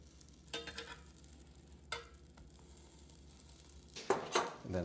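Food frying in a covered skillet during home cooking of a pub-style dinner: steady sizzling with occasional clinks and scrapes of utensils against the pan.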